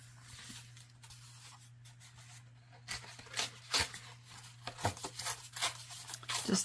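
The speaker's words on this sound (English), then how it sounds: "Just tearing paper off side here." Paper torn off a sheet during a simple craft project, heard as a series of close, crisp ripping bursts that build toward the end over a steady low hum.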